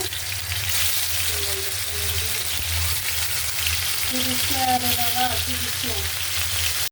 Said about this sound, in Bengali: দিয়ে দিতেছি পেঁয়াজ কুচিটা, কয়েকটা কাঁচামরিচ, একটু ভাজা ভাজা হোক